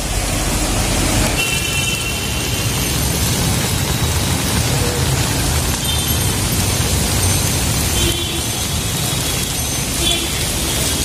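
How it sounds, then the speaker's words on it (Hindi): Heavy rain pours in a loud, dense roar throughout, with a broadband rush that may include passing traffic. "देखा आप लोगों ने कितनी बारिश है।"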